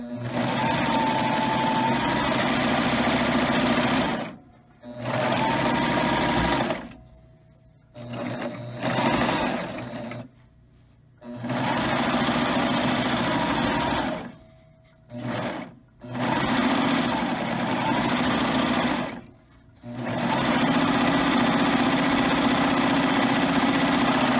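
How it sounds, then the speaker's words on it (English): A Baby Lock serger sewing a wave stitch while finishing an apron piece, a loud, fast, even mechanical whir in several bursts of a few seconds each, separated by short silent pauses. "Getting ready to finish the last little piece here on my serger."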